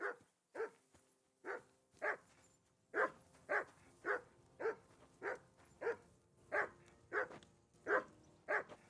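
A dog barks repeatedly in Kingdom Come: Deliverance II, a steady series of about a dozen loud, sharp barks at roughly even intervals, close and clear with no talk over it.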